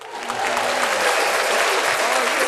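Steady, loud applause from many hands, continuous and dense throughout, with faint voices mixed underneath.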